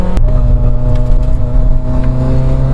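An old, rusty Opel Corsa drives along with its engine pulling loud and close, a steady droning hum with slight rises in pitch as it accelerates, after a brief sharp click at the start.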